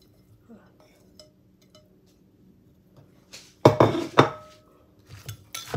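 A mango is pounded in a mortar for Thai mango salad. After a quiet, faintly noisy stretch, several sharp, loud clacking thuds land in an irregular rhythm, followed by a few lighter knocks.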